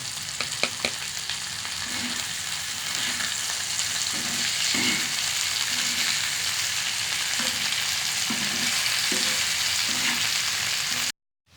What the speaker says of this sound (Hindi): अब हम इसमें प्याज शामिल करेंगे बारीक कटे हुए।